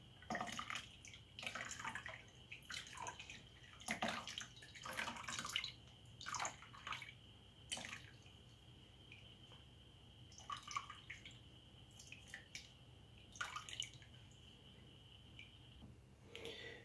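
Beetroot and carrot juice dripping and trickling while it is pushed through a strainer, close and quiet, with irregular clusters of small splashes and drips over a steady faint background hum.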